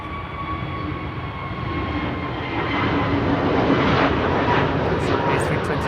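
An Airbus A321neo airliner at Amsterdam Schiphol gives a steady engine roar that grows louder over several seconds, with faint whining tones riding on top and a low rumble underneath.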